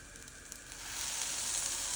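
Dates sizzle on a hot grill with olive oil, a steady frying hiss that swells louder partway through, with no talking.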